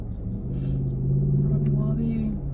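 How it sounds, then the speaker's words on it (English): A jacked-up truck rumbles past nearby, its low engine drone swelling and fading over a couple of seconds, heard from inside a vehicle. "Jacked up truck"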